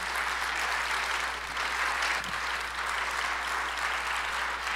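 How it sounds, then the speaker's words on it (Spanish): A conference congregation breaks into loud, sustained applause that fills the room, a dense even roar of many clapping hands with no pause and no voice rising above it. "Sí, dale un aplauso al Señor."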